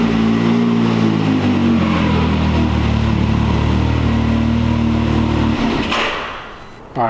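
A 2022 Can-Am engine revs hard on a dyno pull, a loud sustained drone with rising harmonics that cuts off abruptly near the end.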